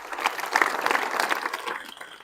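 Audience applause at a school gathering on academic excellence, a steady wash of clapping from a crowd of listeners that holds throughout at moderate loudness, with no talk over it.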